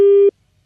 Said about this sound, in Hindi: वो टेलीफोन लाइन कट गई थी मेरे ख्याल से